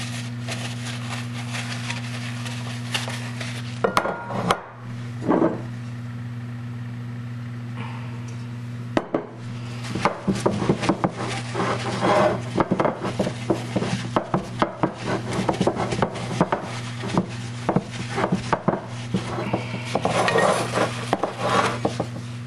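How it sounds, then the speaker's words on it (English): Scattered metallic clinks and soft rubbing scrapes from metal baking pans being oiled, with a steady electrical hum underneath and brief pauses between bursts of activity. "I'm oiling my pans. I don't want anything to stick this time like last time."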